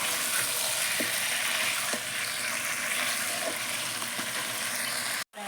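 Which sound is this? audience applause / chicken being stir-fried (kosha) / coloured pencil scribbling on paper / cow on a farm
chicken being stir-fried (kosha)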